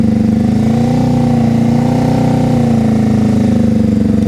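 Motorcycle engine held at a steady low throttle during slow-speed riding practice, a continuous close, loud idle-like drone with slight rises and falls in pitch and no talk.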